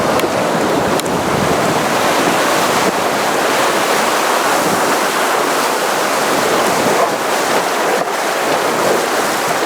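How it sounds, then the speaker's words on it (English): Rushing river water roars steadily and loudly through a class 1 rapid on a Montana river during a rafting run, a constant close wash with no talking. "It's just a class 1 rapid, but time to get started and see what this river offers."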